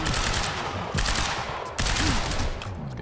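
Quantum Break gunfire in an industrial area: sustained rapid automatic bursts rattle loudly and close, broken by brief pauses and a couple of sharper impacts.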